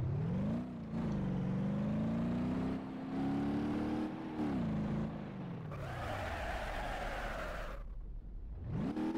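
Honda Civic accelerating in BeamNG.drive during a crash test run, an engine whining upward in pitch through several gear shifts, loud and steady, briefly cutting out near the end before revving again.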